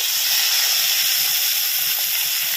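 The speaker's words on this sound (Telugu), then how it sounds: "కరివేపాకు వేసిన తర్వాత వెంటనే ఇందులో అయితే పోసేస్తున్నాను" Hot tempering with curry leaves poured into a prawn and gongura (sorrel leaf) curry makes a loud, continuous close sizzle and hiss that runs evenly through the whole moment.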